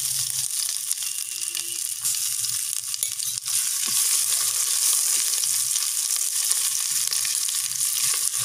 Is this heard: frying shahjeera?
yes